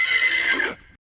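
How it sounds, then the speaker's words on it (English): An AI-generated horse neigh: a single bright whinny lasting about a second, close and alone, that cuts off abruptly. "And cue the AI-generated horse audio."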